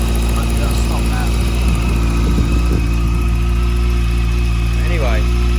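A Honda CBF 600 N6 motorcycle engine, with a possible exhaust header leak, idles steadily with a loud, low, even rumble under a voice talking over it.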